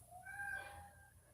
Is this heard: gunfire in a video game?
no